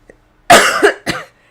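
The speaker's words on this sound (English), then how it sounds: "I'm sorry for the coughing" A woman on a live planner stream coughs loudly and close to the microphone, a short sharp burst of two or three harsh coughs after a brief near-silent pause.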